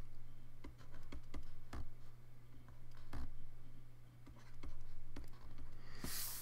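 Pen-on-paper writing by hand, jotting down chemistry equation elements, gives soft scratching strokes and light taps in irregular bursts, close against a low steady background hum.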